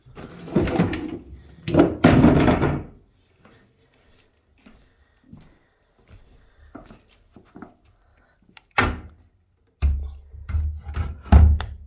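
A wooden drawer is shoved and wedged against sliding doors to lock them, producing close wooden scraping and knocking bursts, a few loud thuds separated by quiet pauses with faint rubbing in between.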